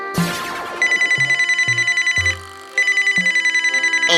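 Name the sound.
telephone ringing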